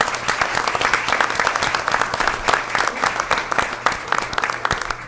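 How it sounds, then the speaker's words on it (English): Steady applause from a room full of people at a school board meeting, continuous clapping at an even level throughout. "So a round of applause for Brandy, please."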